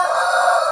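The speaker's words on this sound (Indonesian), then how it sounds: "Pagi hari jadi banyak" A rooster crows in the morning, a sustained, fairly loud call that fills a brief fragment with no voices over it.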